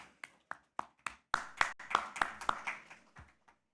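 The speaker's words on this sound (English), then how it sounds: "Please, a round of applause to Olivet." A few people clap at a corporate app launch event, sparse separate claps at first that build into a short ragged burst of close hand claps before stopping.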